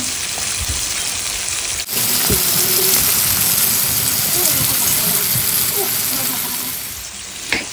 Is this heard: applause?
no